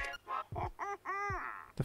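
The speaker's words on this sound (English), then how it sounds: "The flying rooster of Mabe Village." The flying rooster of Mabe Village in the Link's Awakening video game lets out a quick series of squawking, honk-like calls, loud and close with short gaps between them, and no talking.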